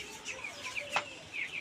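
Broiler chickens clucking and peeping close by in a farm shed, a scatter of short high calls with one louder squawk near the middle, no talking.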